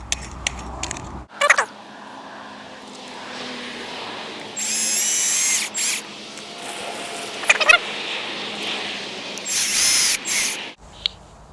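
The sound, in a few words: cordless drill with screwdriver attachment driving screws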